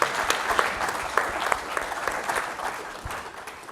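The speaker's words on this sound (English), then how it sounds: "give them a round of applause" Audience applause at a Connected TV World Summit session, a dense steady wash of many hands clapping that carries on throughout and eases slightly toward the end.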